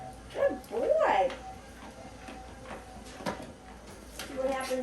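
A dog on a treadmill for the first time gives thin, high whimpers and yips in short wavering bursts, close by, over the steady hum of the treadmill, while a person talks encouragingly.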